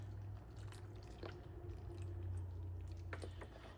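Beef broth poured from a carton into a crock pot for a beef stew, heard as a faint, soft liquid splashing and dripping with a low hum behind it and a few small clicks.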